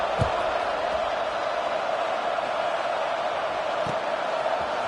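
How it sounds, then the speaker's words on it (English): A football stadium crowd buzzes steadily after a score as the kickoff approaches, a dense, constant roar of many voices, with a few brief thumps standing out near the start and toward the end. "this crowd is buzzing after that last score"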